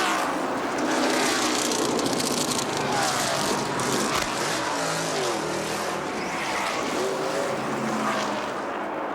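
A race car at Atlanta Motor Speedway rolls slowly down pit road at about 55 mph, its engine a steady, continuous drone under broadband noise, with no clear passes or revving.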